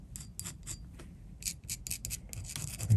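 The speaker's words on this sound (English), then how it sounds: "mix it here with the end of the screwdriver" The tip of a screwdriver stirring titanium white, burnt umber and brown paint together, a rapid run of gritty scraping and tapping strokes, close and steady with no talking.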